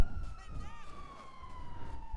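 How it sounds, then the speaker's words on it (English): A police car siren in the video game GTA V wails faintly in the distance, a thin sweeping tone over quiet outdoor ambience, with soft voices murmuring in the background. "police car coming in here."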